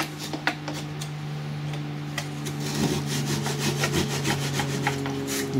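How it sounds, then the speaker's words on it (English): A hand saw cutting through turned wood on a lathe-made tulip, a close rhythmic rasping of repeated strokes over a steady low machine hum, no talking. "Is I take the saw, you can use the Dremel."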